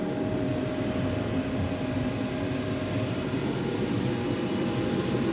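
A loud, steady whooshing drone of an inline exhaust fan for a laser cutter running at full power, with a faint constant hum and no talk.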